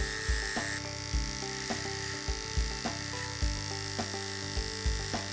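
Electric hair clippers buzz steadily while fading a haircut, a close, continuous hum with a faint rhythmic pulsing as the blade passes through the hair. No one speaks.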